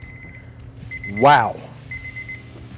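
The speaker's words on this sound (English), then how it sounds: "You can hear our alarm is going off" A chef's alarm meat thermometer beeps in short repeated bursts at a grill while a cowboy ribeye cooks, the steady electronic pips pausing and returning as a man exclaims over them.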